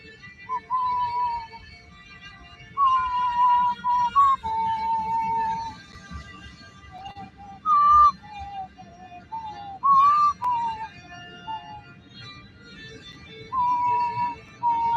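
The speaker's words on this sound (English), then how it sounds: "I felt like whistling for a moment." A person whistles a tune in short melodic phrases separated by pauses, clear and fairly close over a faint low background hum.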